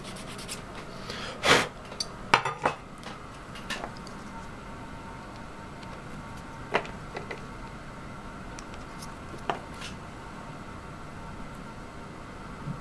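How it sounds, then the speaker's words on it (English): A small plastic army man soldier being sanded by hand, a few short scratchy rasps in quick bursts near the start, then sparse quieter strokes against a faint background hiss. "So I'll sand down one more soldier."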